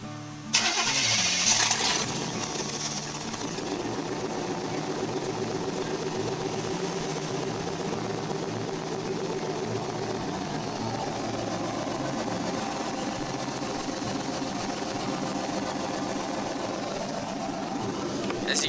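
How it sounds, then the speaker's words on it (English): A 1989 Chevrolet Suburban with straight headers cold starts: a brief crank, then the engine catches and settles into a loud, rough, steady idle that holds for the rest of the stretch. "So, cold start, just straight headers."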